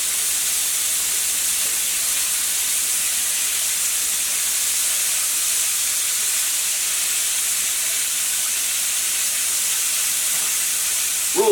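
Wild turkey nuggets fry in a pan of hot oil, giving a steady, loud sizzling hiss that holds evenly throughout with no voices.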